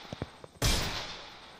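A single loud Desert Eagle pistol shot in the video game Free Fire rings out with a sharp crack and a long fading tail, preceded by a few soft muted taps.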